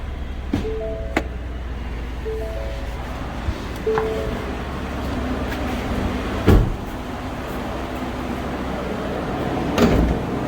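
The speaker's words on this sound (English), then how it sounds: "Let's see, pop this hood." A 2020 Ford F150 XLT pickup's hood being popped open: a few sharp metallic clunks and latch thuds against low idle and ambient hum, close by.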